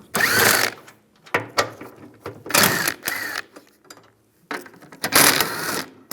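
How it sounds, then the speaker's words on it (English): A ratchet with a 13mm socket backs bolts out of a plate on a 2007-2013 Chevy Silverado during heater core work, giving several bursts of rapid close clicking separated by short pauses. "Use a 13mm socket. Take these 4 bolts out."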